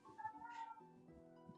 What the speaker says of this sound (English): I don't know if any of you could hear my cat screaming in the background